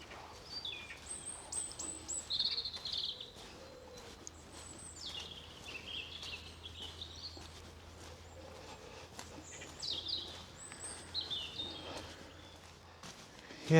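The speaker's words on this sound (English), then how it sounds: "isn't it lovely just to listen to the birds?" Several birds sing and chirp outdoors on a muddy woodland walk in snowdrop season, with faint, scattered high calls over soft rustling and quiet footsteps.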